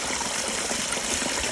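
A small waterfall in a rice field gives a steady, close rush of splashing water with no pauses or voices.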